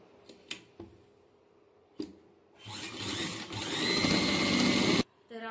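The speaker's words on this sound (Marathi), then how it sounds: "साईडच्या याला सिंगल शिलाई" A sewing machine runs in one sustained burst of single stitching along the side of a prince-cut blouse, after a few faint clicks and taps, close and loud before stopping abruptly.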